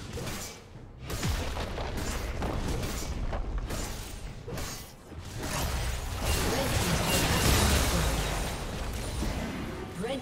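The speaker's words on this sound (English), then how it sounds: "Red team's turret has been destroyed." Game effects from League of Legends as a turret is destroyed: a dense, steady wash of booming impacts, crumbling bursts and whooshes, loud and continuous, with a brief lull midway before swelling again.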